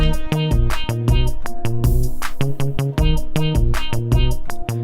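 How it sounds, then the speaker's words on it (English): A dark, lo-fi piano repeats a simple two-note figure over and over with a steady beat underneath, loud and close, no voices. "dark lo-fi piano, and it goes like this."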